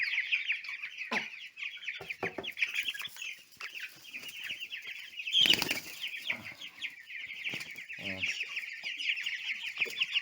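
Cobb 500 broiler chickens inside their shed give steady, busy clucking and chattering throughout, with brief bursts of wing flapping and a louder flurry midway.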